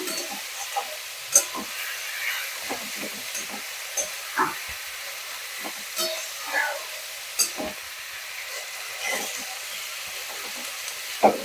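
Sliced onions frying in a pan for Bengali mutton kosha, a soft continuous sizzle broken by scattered crackles and pops at uneven intervals, close and moderately quiet.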